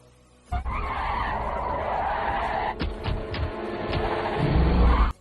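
A car races at high speed in a film chase, a dense, loud engine-and-road roar with sharp skidding bursts midway, swelling louder near the end.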